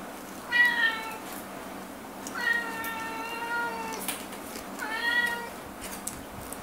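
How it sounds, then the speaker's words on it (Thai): A cat meows three times, drawn out and near, at a meal with sweet fried fish. Each cry rises and falls, with quiet pauses between them. "ได้กลิ่นปลาน้องแมว"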